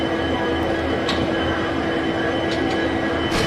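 A WDP4D diesel locomotive coupled to express train carriages at Tiruchirappalli Junction, heard as a loud, continuous engine rumble and railway din with faint metallic squeaks, steady and close, no talking.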